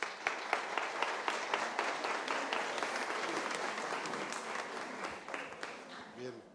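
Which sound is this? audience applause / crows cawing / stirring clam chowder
audience applause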